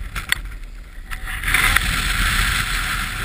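Wind blowing across the exposed summit of Franconia Ridge in New Hampshire in winter, a steady rushing roar buffeting the microphone, rising and staying strong after the first second-and-a-half, with no talk.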